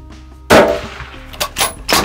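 A loud rifle shot fired while hunting axis deer in Texas bursts in sharply after a low steady background, followed by a few echoing bumps and a second strong burst near the end.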